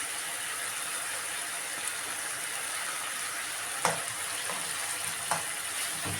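Garlic frying in a hot pan sizzles steadily and loudly, with a few sharp clinks and pops breaking through the constant hiss.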